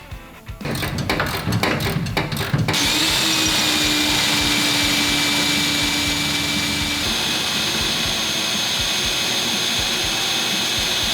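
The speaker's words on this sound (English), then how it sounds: "then we're gonna go ahead and clamp this and drill out the rest of the holes." A few quick clanks and rattles give way to a loud, continuous drill whine drilling holes in a clamped 1988–1998 Chevrolet C1500 truck frame, running steadily at close range without letting up.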